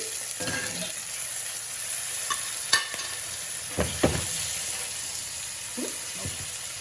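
Seared scallops tossed back into a pan of sizzling, reducing sauce, with a constant fry hiss broken by a few clattering stirs and light knocks, close and alone without speech.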